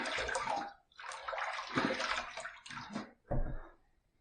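Water splashes and runs in bursts during a rinse after a second shaving pass, close and fairly loud with short pauses between splashes.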